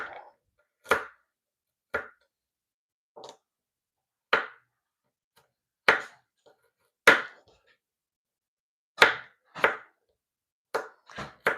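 Garlic is roughly chopped with a knife on a board in about a dozen sharp, irregular chops with short pauses between them, close and clear with no talk.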